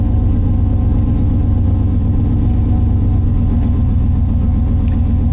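Car engine with newly swapped fuel injectors and no hood fitted, running steadily under way on a drive, a continuous loud low rumble with mild rise in revs throughout.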